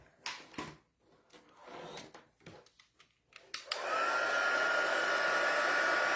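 Handling noises and faint taps on a card give way to a heat tool switching on, then a steady, close, loud blowing whir as it heats embossing powder on the card.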